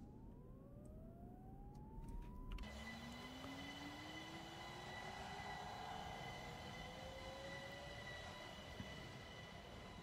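An OBB Cityjet electric train in Train Simulator pulls away with a rising motor whine and steady rolling rumble, a continuous, moderately loud sound with no talk.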